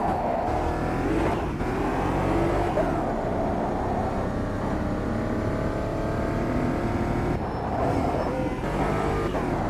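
Race car engine in the Automobilista 2 racing game driving a lap, a steady loud high-revving drone with gear-shift dips and revs rising again, continuous without talk.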